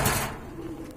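A soft, low pigeon coo at a market stall selling pigeons, one brief close call after a short rustle, ending with a small knock.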